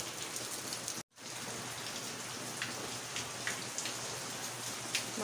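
Steady rain pours down in a dense, even hiss with scattered drop patters, interrupted by a brief cut of silence early on.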